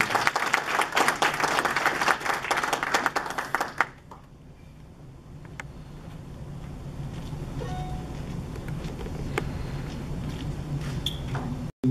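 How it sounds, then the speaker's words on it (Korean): Audience applause at an award plaque presentation during a Korea University alumni church gathering in the southeastern United States; dense, loud clapping for about four seconds, then it cuts off abruptly into a quiet room murmur. "큰 박수로 감사드립니다."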